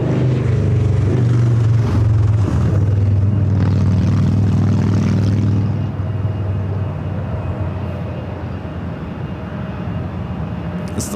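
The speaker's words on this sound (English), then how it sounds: "We're seeing the A350-1000 with Japan Airlines." A Japan Airlines Airbus A350-1000 jet airliner at LAX airport rumbles loudly and steadily for several seconds, then fades into a softer, broad roar as it moves away, with no talking.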